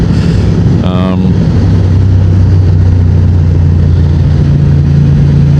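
Honda Transalp 750 motorcycle engine droning steadily and loud while riding on the road, a brief rising whine as it shifts into fifth gear near the start, then a constant hum with wind noise.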